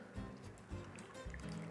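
Flan custard is poured over burnt caramel in a dish, giving soft, faint liquid splashes and gurgles that arrive in a few low pulses, close by and quiet.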